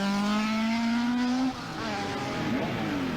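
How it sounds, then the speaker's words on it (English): A rally car on a gravel stage at the 1986 Galway Rally revs hard with a rising engine whine, drops briefly on a gear change, then climbs again, loud and fairly close. "The cars have started the stage in order."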